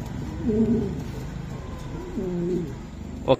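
Imported Afsan grizzle fancy pigeons coo softly in two low, rolling bouts, close by in a quiet space. A brief sharp click follows at the end.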